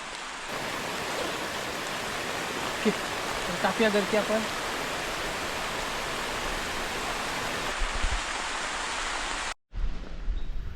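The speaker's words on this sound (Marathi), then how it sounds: "पाऊस जोर पकडत होती चांगला चालू झाला पाऊस" Heavy evening rain pours steadily at a night camping spot as a dense, even hiss, with a few brief voices speaking over it before a short cutout near the end.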